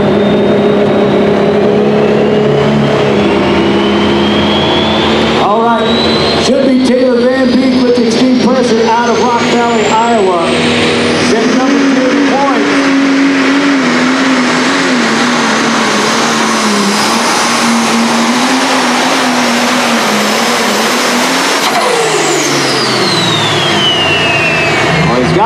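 Diesel super stock tractor pulling at an outlaw truck and tractor pull in Windsor, Colorado: a loud roaring engine with a rising, whistling turbo spool building over a sustained drone, then fading as the tractor moves away.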